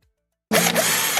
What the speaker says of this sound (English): Next up, gonna drill some holes.